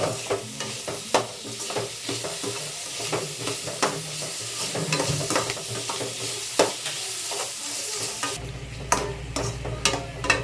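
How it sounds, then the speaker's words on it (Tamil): Chicken with masala and salt sautéing in a pan gives a continuous sizzle with frequent scraping stirs and spoon knocks, close and busy, with no talk. "அது கூட நம்ம சிக்கனுக்கு மசாலாக்கு எல்லாத்துக்கும் சேர்த்து உப்பு சேர்த்து நல்லா வதக்கி விடலாம்"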